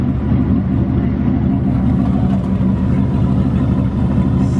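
A turbocharged 1967 Chevelle on 24-inch wheels gives a steady, loud, low engine rumble close by at a burnout show, continuous throughout.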